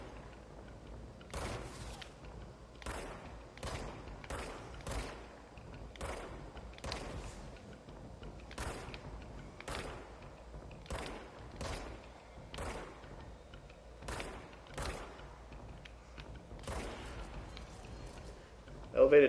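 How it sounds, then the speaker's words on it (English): Gunshots in the video game Control, fired at elevated targets: a series of sharp, evenly spaced reports, about a dozen over the span, standing clear above a low steady ambient bed with no talk. "And all right, I need to shoot you guys."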